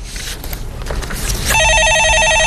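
A telephone starts ringing partway through with a steady, repeating electronic trill, loud and close, after a stretch of rustling movement and background noise.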